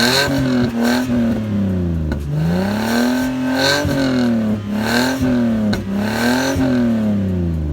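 A Lexus IS300 fitted with an upgraded exhaust revs loud and close with no talking, its engine note rising and falling through several repeated throttle blips across the whole stretch.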